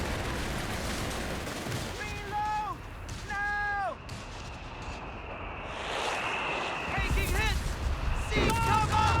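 Heavy mortar and artillery fire in a Company of Heroes 3 battle, with repeated booming impacts and whistling shell tones over a dense wartime din, the explosions growing louder toward the end.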